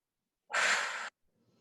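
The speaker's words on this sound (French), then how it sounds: "Et on reprend une respiration naturelle" A single long, steady exhalation during a guided sophrology relaxation session, soft and close, lasting about half a second, then near silence with faint rustle.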